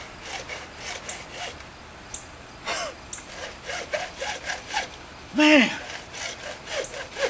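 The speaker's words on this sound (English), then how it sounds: "you grab a hacksaw or whatever you want to use to cut this off with, and you start cutting right there on your marks" A hacksaw cuts through an extruder part clamped in a vise, making steady, close back-and-forth rasping strokes, with a brief spoken exclamation near the end.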